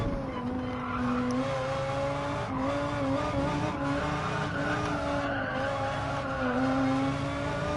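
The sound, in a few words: tyres squealing on a race car in video game Gran Turismo 7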